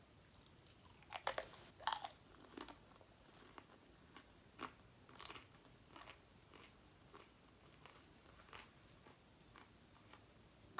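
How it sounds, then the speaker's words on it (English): Crunchy El Pollo Loco chicken taquito ends are chewed close to the mic, with sharp crackling bites early on followed by quieter, steady crunching chews at low volume. "it's still good to eat the ends because they're so crunchy and delicious"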